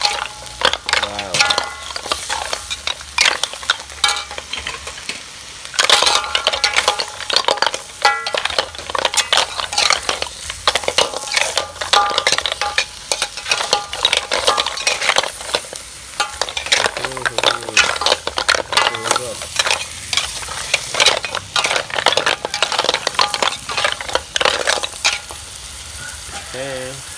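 Snails deep-fry with holy basil in a pan, giving loud, continuous sizzling while a utensil repeatedly scrapes and clinks against the metal as they are stirred. Close and busy throughout.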